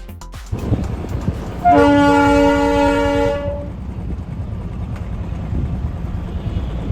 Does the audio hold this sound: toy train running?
yes